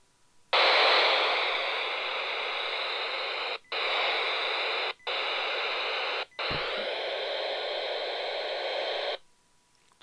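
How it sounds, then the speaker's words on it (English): A radio scanner hisses with a loud steady stream of received static, cut by three brief dropouts and a short squelch click before the noise stops, heard alone and close. "I was going to stop talking and turn the scanner on"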